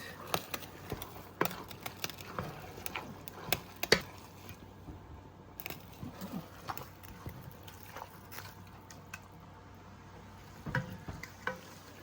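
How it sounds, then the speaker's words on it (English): Food for a jerk stout shepherd's pie sautéing in a pan, a soft continuous sizzle with scattered clicks and scrapes of stirring, fairly quiet and without speech. "So we're gonna let this saute down."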